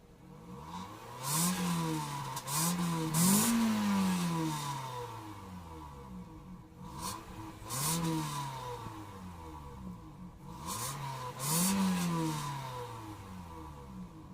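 A 2000 Toyota Celica GT on its stock exhaust, the engine revving up in repeated blips, each rise climbing and falling back to a steady idle, heard alone with no talk.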